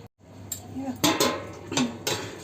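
A metal plate used as a lid is lifted off a cooking pot of curry and potatoes in a village kitchen, with several sharp clanks and rattles ringing out close by.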